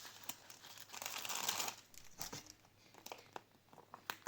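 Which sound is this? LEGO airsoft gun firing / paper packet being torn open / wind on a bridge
paper packet being torn open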